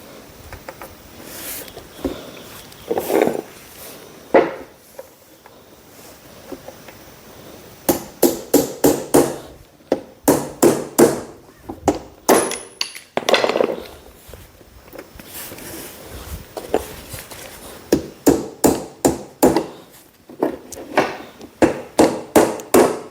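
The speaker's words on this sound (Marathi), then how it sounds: "बघू शकता एकूण एक खिळा ठोकला आहे" Nails hammered into wood to build a homemade mango-picking tool, a run of sharp repeated strikes in quick bursts with short pauses between, close and fairly loud with no talking.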